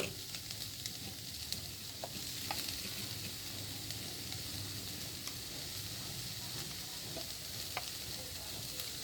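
Ground coconut paste is stirred into sizzling agathi leaf thoran in a pan, a steady frying hiss broken by scattered scraping ticks of the spoon.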